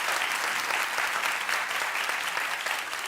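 A television talk-show studio audience claps steadily and densely, a full, even round of applause with no voices on top.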